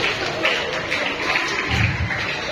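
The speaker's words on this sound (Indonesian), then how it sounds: "Tepuk tangan kepada teman-teman kalian di IFAH ya." Students applauding classmates at a school assembly, a short burst of scattered clapping, moderately loud with some low rumble beneath.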